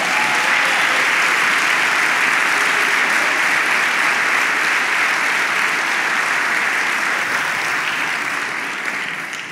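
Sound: congregation applauding in church

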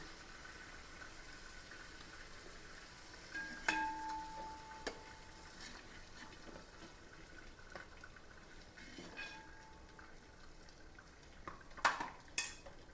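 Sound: chicken shallow frying in pan for biryani

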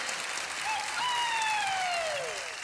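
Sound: audience applause on a TV singing show

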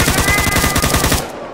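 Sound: gunfire from a Minecraft gun mod, video game

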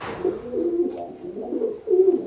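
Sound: pigeon cooing

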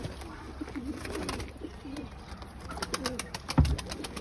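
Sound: pigeons cooing

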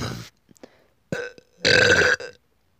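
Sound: burping

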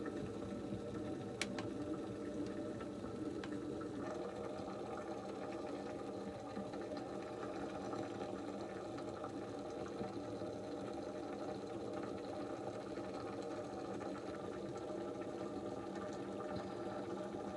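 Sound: facial steamer running

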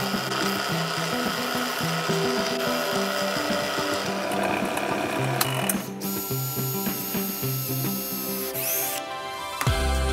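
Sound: drilling holes in marshmallow crossbow wood

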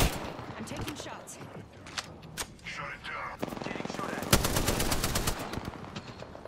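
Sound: gunfire in the video game Apex Legends

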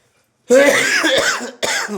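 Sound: cough

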